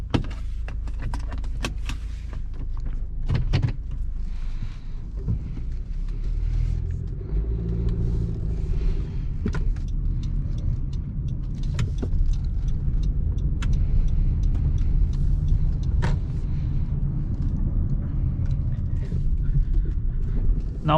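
Interior of a 2017 Honda CR-V EX-L on a test drive: a steady low engine and road rumble, with scattered clicks, clunks and a brief whirring mechanism, and no talking.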